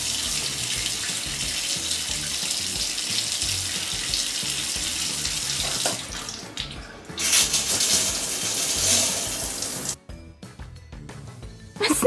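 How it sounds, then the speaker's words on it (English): A running shower pours water steadily, a loud, continuous hiss and splash that shifts slightly in tone partway through and cuts lower near the end. "Nothing wakes me up like a good shower."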